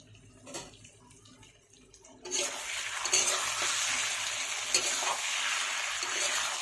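Onion and potato frying in a pan for a village-style singi and shol fish dish, starting with quiet stirring and then breaking into a loud, steady, close sizzle that continues to the end with occasional sharp pops.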